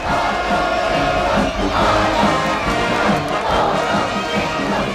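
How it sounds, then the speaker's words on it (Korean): A large crowd at a state welcome ceremony in North Korea for a visiting Chinese leader roars in sustained, loud cheering, a dense continuous wall of shouting voices. "환영의식이 끝나자 무궁찬 환호성이 터져 올랐습니다"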